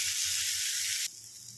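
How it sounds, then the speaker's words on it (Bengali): Onions fry in mustard oil with a steady, bright sizzle that runs loud and close, then drops abruptly to a quieter hiss partway through, with faint low clatter underneath. "এটাকে আমি ভালো করে ভেজে নিয়ে ফিরছি।"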